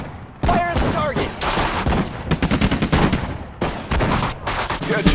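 US Army infantry gunfire in a video game: loud, dense bursts of rapid automatic shots come in repeated volleys after a brief quiet start, with short gaps between bursts.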